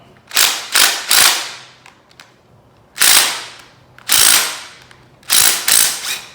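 Ratchet wrench loosening half-inch rocker arm bolts on a Ford 400 engine, sharp loud clicking bursts in quick groups of two or three, separated by short quiet pauses.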